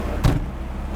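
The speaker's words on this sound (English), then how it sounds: "the seatbelt retracts automatically down its track to close me in and provide me with a true seatbelt experience" The automatic seatbelt of a Ferrari 348 slides down its track, heard as one short mechanical whir and clunk near the start, close by, inside a quiet cabin.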